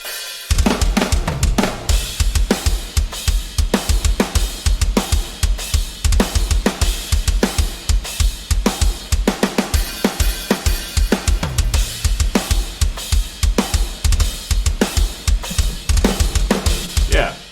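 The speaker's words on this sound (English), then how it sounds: "So once it's all mixed, my drums sound like this." Mixed drum kit layering Mjolnir kick and snare with Get Good Drums samples: dense, punchy rapid-fire kick and snare hits under heavy cymbal wash, loud and driving throughout.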